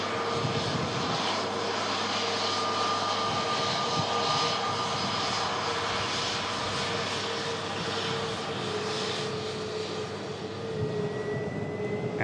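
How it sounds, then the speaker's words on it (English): An EasyJet airliner taxis past nearby at an airport, its jet engines giving a steady loud roar and whine that hold fairly constant throughout, with no voices. "Let's capture another EasyJet about to touch, but we'll just capture this taxiing off just in front of us."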